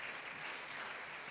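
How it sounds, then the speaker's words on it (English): Audience clapping at a tech event, a brief soft wash of applause heard at a distance. "Can you clap for them?"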